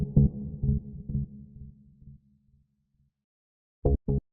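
Tech house bass line run through compressor, overdrive, ping-pong delay and reverb: three punchy low notes fading into a decaying tail, silence, then two more short bass hits, with no talking.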